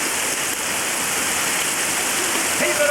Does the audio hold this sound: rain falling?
yes